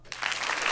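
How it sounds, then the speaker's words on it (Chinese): A burst of audience applause begins abruptly at a charity auction, rising into dense steady clapping for its brief length. "来，我们为这个女中豪杰鼓掌"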